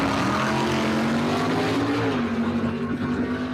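A Chevy Nova and a Chevelle run side by side at an outdoor dragway, their engines a loud sustained roar with a rising, shifting drone.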